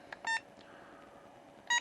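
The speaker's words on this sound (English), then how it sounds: "it'll of course turn green when it's done. And it'll beep." A Hobbymate D6 Duo Pro battery charger gives short electronic beeps when its task finishes, several quick tones near the start and another near the end, clear and close in a quiet room.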